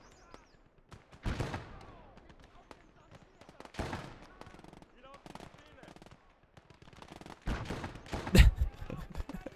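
Machine gun fire in the Gates of Hell video game, with scattered bursts of rapid shots ringing out at varying distances, some loud and close, between quiet gaps while someone talks over them.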